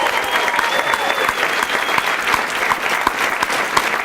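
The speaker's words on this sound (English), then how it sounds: "how about a big round of applause for Coach McGraw and these amazing women basketball players" Round of applause at a PinkZone charity luncheon honoring a coach and women's basketball players, loud close clapping with distinct individual claps standing out in an even, sustained roll.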